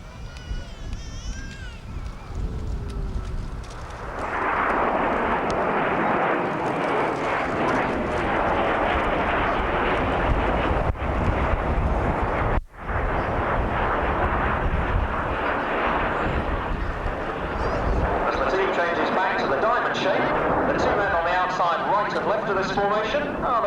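Jet display aircraft roar continuously overhead during the Big Vixen roll at the 1989 RAF Scampton airshow, a loud, swelling engine rumble heard under an announcer's voice.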